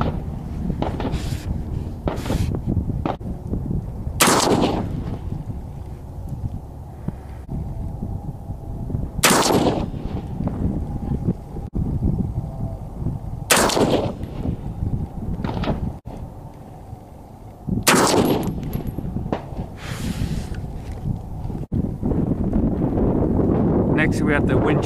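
Rifle shots from .223 Fiocchi VMAX ammunition fired at a target 50 yards away, several sharp loud cracks spaced a few seconds apart over steady wind noise outdoors.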